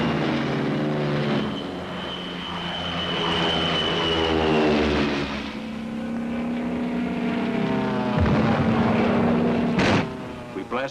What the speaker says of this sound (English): Thunderbolts take off from our new field